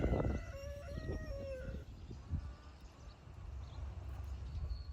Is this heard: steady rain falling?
no